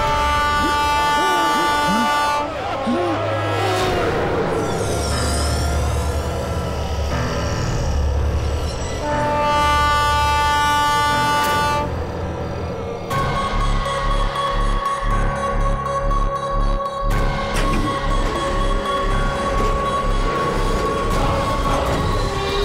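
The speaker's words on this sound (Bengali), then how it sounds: "ট্রেনটা তো থামলোই না।" A train rushes past without stopping as a sound effect in a Bengali horror drama, with loud sustained horn blasts and a rhythmic clatter of wheels, mixed with voices.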